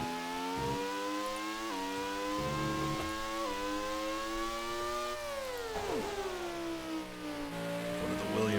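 A race car engine from Grand Prix II leaving the pits drones steadily and loud, its pitch climbing in repeated steps through gear changes, with one brief dip and recovery midway.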